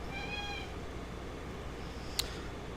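A pet cat meows once, a short, fairly clear call close by, followed later by a faint brief click in a quiet room.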